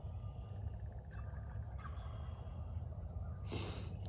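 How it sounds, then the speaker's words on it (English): A wild turkey tom gobbles in Michigan spring woods at dawn, one loud burst rattling out near the end of a short stretch, carried over low wind rumble and faint background birdsong. "it's definitely a tom gobbling back in that woods"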